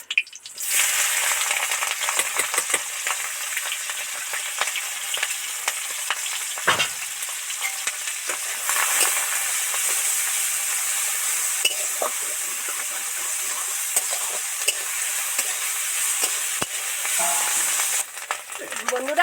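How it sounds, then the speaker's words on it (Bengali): Canal prawns marinated with turmeric and chilli fry in a wok, giving a loud, continuous sizzle broken by occasional stirring scrapes and spatters. "চিংড়ি রান্নাঘরে ভাজি কড়াই টুকবুক করে ফুটছে"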